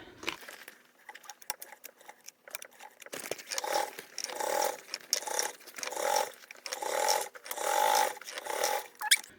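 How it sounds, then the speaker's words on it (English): A sewing machine top stitching along the divider pocket side of a foldable tote bag lining, starting with a few short stuttering bursts, then running in steady rhythmic whirring surges, close and alone. "we're going to top stitch along the divider pocket side"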